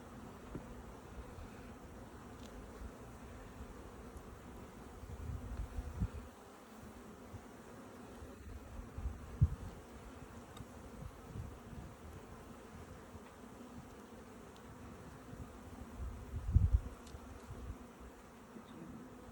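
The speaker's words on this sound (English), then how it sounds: "There's a lot of bees in this" Honeybees swarm around an open hive during an inspection, a dense continuous buzz with occasional thumps and knocks of hive parts, close and steady throughout.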